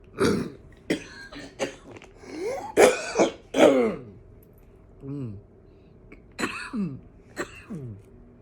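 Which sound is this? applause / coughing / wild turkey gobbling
coughing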